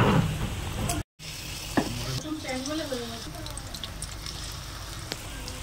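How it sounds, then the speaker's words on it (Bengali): Topse fish fry in hot oil in a pan, giving a steady close sizzle with stirring scrapes, while a voice is briefly heard over it. "এখন হচ্ছে গরম গরম তোপসে ফ্রাই"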